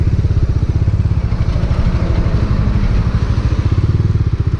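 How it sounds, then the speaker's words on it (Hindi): Bajaj Dominar 400 motorcycle riding on the road, its engine a steady loud low-pitched throb with constant pulsing and wind rush, no voices over it. "अरे भाग रहा है बाइक।"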